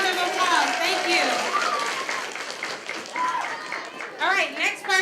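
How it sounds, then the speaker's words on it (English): An audience applauds a performer, with steady clapping mixed with excited voices and cheering shouts throughout, fairly loud and close. "let's give him a round of applause"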